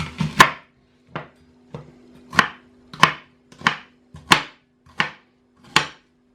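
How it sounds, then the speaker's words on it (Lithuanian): Onions are chopped with a knife on a board, about nine sharp, evenly spaced thuds close by, with quiet between strokes and no speech. "Supjaustom svogūnus."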